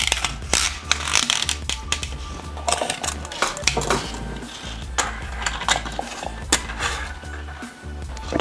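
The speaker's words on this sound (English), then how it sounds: "So what I've got here is some 100 pound, 7-strand steel plastic coated wire, and we need approximately 18 centimeters of this." Close, crisp clicks, taps and light metallic clatter come from handling 100-pound, 7-strand, plastic-coated steel wire while rigging a tandem-hook sailfish fly. The sounds are irregular and fairly busy, with no talk.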